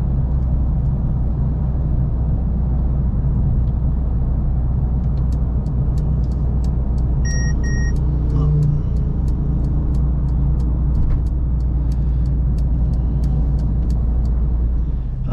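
A 2020 Mercedes A45S with its four-cylinder engine, heard from inside the cabin while driving: a steady, low engine and road rumble at an even cruising pace, with no one speaking.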